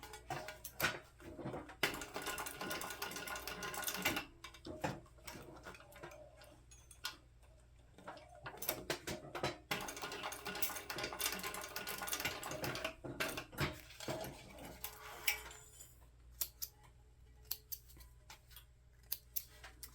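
A sewing machine runs in repeated bursts of rapid mechanical ticking while it stitches along the edge of a strap, with short pauses and clicks between the runs.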